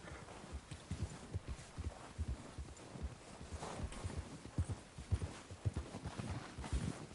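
Horse hooves clip-clop at a walking pace in a snowy, cold setting in the Red Dead video game, with a steady rhythm of soft, moderately close hoofbeats over faint ambient background and no talk.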